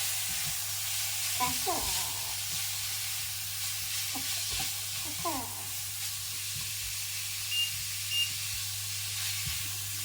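Ground beef fries for a cottage pie, with salt and pepper stirred in, giving a steady soft sizzle through the whole stretch, broken by occasional scraping stirs and brief nearby speech.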